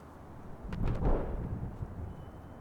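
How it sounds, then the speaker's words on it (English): Distant explosions in Battlefield 6 outdoor ambience, a low muffled rumble swelling in the middle and fading into a faint background wash, with a few soft thuds far off. "Distant explosions."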